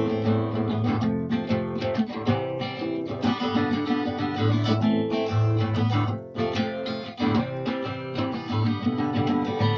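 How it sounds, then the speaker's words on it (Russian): A steady strummed acoustic guitar plays full chords at an even rhythm, close and fairly loud, with no voices over it. "акустическая гитара вообще звучит вот так."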